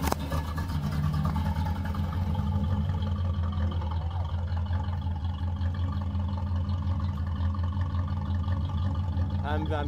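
A 1984 Chevy Caprice's engine runs with a steady, loud mid-pitched drone and a couple of mild rises in pitch as it is revved, with people talking over it.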